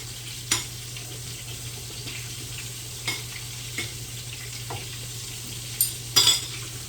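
Pork chops frying in a pan, a steady close sizzle with a low hum beneath, broken by occasional sharp clinks and scrapes of a utensil against the pan.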